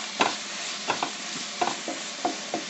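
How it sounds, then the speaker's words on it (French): Ingredients for a quick couscous dish sauté in a pan, with a soft continuous sizzle and a series of scraping stirring strokes at an irregular rhythm, close and fairly quiet. "Donc je fais revenir tout ça."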